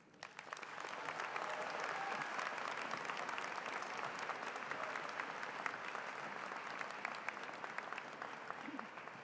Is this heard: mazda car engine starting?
no